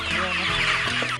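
Chickens cluck loudly and close up at a members-only poultry farm, a brief overlapping chorus of hens throughout.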